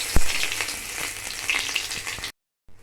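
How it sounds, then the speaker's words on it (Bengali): Chopped onion and ginger sizzle loudly in hot oil, a dense close frying hiss with a sharp crackle near the start, then cutting off abruptly to near silence. "এবার সবজিগুলো আমি ফ্রাই করব"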